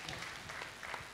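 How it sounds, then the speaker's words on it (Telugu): An audience at a Telugu music event applauds in a short, steady burst of dense clapping. "ఈ చిరంజీవులందరినీ మీరు ఒకసారి చప్పట్ల ద్వారా అభినందించాలి"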